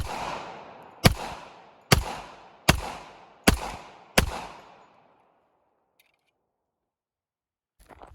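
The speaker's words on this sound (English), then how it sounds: "This is an old gun." Five sharp gunshots from an old gun, fired outdoors at roughly one-second intervals, each loud crack trailing off into a short echo, followed by silence.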